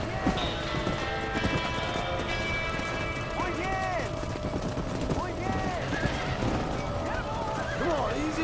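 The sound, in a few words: horse neighing and galloping in video game Red Dead Redemption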